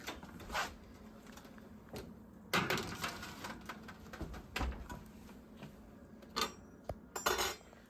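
Metallic clanks and scrapes as a snickerdoodle cookie tray is placed into a home oven, with scattered sharp clatters, a rack slide and a door knock against faint quiet background.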